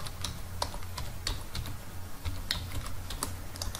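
Brisk clicking of computer keyboard keys in uneven bursts, close by, over a low steady hum with no one speaking.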